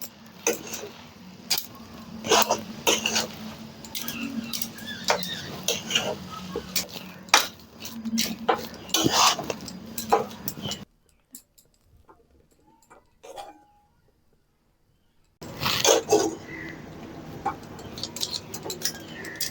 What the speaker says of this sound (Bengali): আঁচটা একদম হালকা রেখে নেড়েচেড়ে মিশিয়ে নেব।